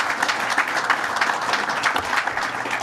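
Audience applause at a governor's announcement on Long Island, a lively, fairly loud burst of many hands clapping together for about three seconds.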